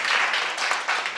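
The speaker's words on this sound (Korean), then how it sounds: "서로가 우리가 박수 한번 할까요?" An audience at a talk applauds together in a steady, dense wash of clapping that is close and fairly loud, with no voices over it.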